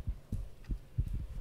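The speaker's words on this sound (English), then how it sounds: "Heartbeat's picking up." A heartbeat in a horror video game, deep muffled thumps in quick uneven pairs that grow faster toward the end, quiet and alone with no talk.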